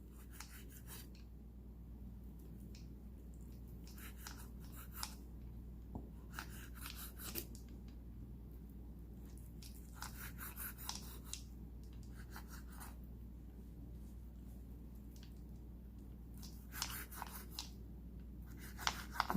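A knife slices flat beef into small pieces: repeated faint scraping strokes in irregular bursts against a quiet steady hum, with no talking.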